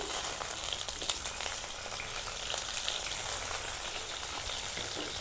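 Half an onion frying in a spoonful of hot oil for Mandya-style bassaru, a steady dense sizzle that holds evenly throughout with no talking.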